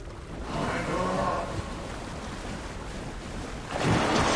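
Ocean waves wash and surge around someone in the water, a loud rushing roar that swells early, eases, then surges again near the end, with wind buffeting the microphone.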